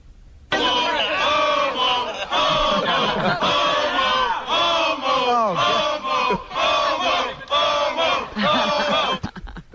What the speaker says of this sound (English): Sit and sleep crowd ragging on Sal.